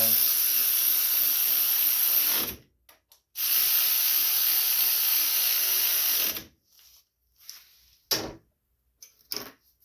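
A power tool whirrs in two long, steady bursts of about three seconds each, tightening the carburetor bolts on a John Deere LA105 riding mower, followed by a few short clicks and quiet handling sounds.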